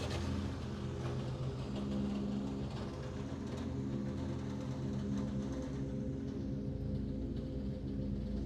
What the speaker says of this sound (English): There's going to be loud trucks coming up and down the street